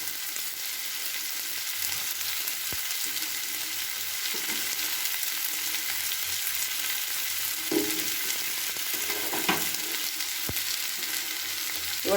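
Capsicum, beet and other vegetables sizzling steadily in a hot pan for pasta soup, with occasional soft stirring scrapes close by and no talking.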